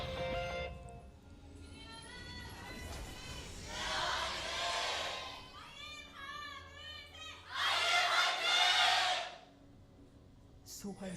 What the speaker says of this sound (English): Crowd rubs it in as well.